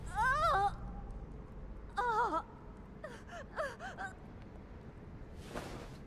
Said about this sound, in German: Bitte, Tuesday, immer weiter atmen. Ein und aus. Ein und aus